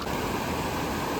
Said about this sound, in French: Là il y a une petite cascade.